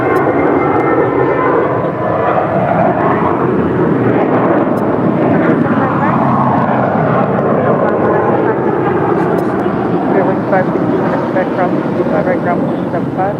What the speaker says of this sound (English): That was American Airlines Flight 2546 departing to Mexico City.